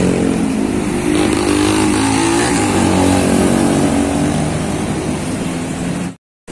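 A large tour bus engine roars steadily as the bus passes nearby on a town street, loud and continuous, before the sound abruptly cuts out.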